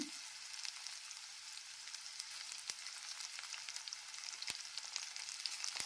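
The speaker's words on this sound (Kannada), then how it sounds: "ಈರುಳ್ಳಿ ಸಾಫ್ಟ್ ಆಗೋ ತನಕ ಈ ರೀತಿ ಹುರ್ಕೋಬೇಕು" Onion, cumin and curry leaves sauté in oil for a bottle gourd palya, giving a soft, steady sizzle with occasional sharp ticks, fairly quiet and with no voices.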